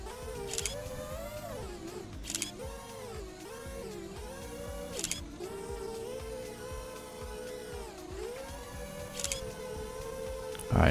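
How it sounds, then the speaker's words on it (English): Sharp shutter-like clicks from a flight simulator video game as the aircraft passes through gates, a few crisp snaps spaced several seconds apart over a steady tonal engine and music bed. "Every time you fly through the gate, it makes this kind of click noise like a camera shutter."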